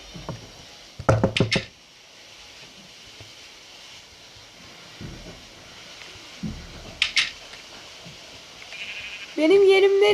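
Minecraft game audio with a short burst of sheep bleats, a few scattered thuds like door knocks, then a brief bleat again, over quiet game ambience.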